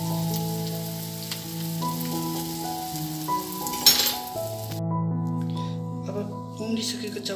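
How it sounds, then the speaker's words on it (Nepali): Chowchow noodles stirred slowly in a pan give a soft, close sizzle with a few light scrapes, set under background music that cuts out briefly partway through. "यसलाई बिस्तारै बिस्तारै चलाउने।"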